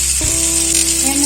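Hot oil sizzles steadily in a pan of fried pointed gourd for a vegetarian potato-and-gourd curry, a constant close hiss with a brief stir near the start and no voices.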